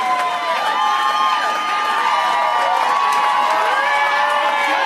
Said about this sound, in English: You hear the fake applause.